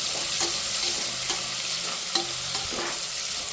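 Chopped onion frying in a pan with salt, a steady close sizzle with a few light clinks and taps of a stirring spoon against the pan and no voices.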